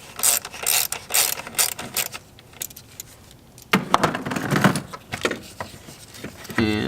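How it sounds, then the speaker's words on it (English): Close-up ratchet clicking in quick bursts while removing four Torx bolts from the throttle body of a Mercedes-Benz GLC 300, with short pauses and metallic handling noises between the runs. "Now remove the 4 Torx holding the throttle body on."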